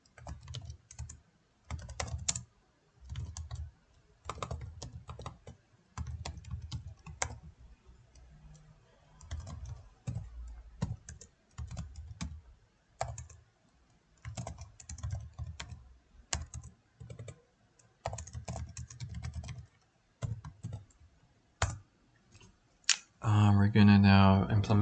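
Close, crisp keystrokes from typing code on a computer keyboard come in irregular rapid bursts with short pauses. A voice is heard now and then.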